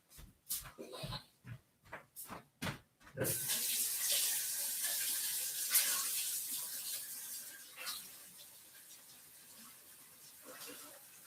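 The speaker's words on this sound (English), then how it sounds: "I'm just going to dampen my sponge really quickly" Tap water runs steadily into a sink for several seconds to dampen a makeup sponge, close and moderately loud. A few short knocks come first, and the flow then tapers off.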